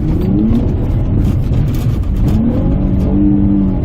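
A salvage-auction Honda S2000 with a totaled body accelerates, its engine roaring loud and close from inside the car, pitch rising and falling through the revs with a steady rush of road noise.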